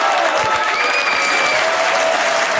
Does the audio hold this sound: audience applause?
yes